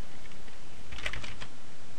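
Brief burst of typing on a computer keyboard, a quick cluster of soft clicks near the middle of a short stretch of low background noise, no talking.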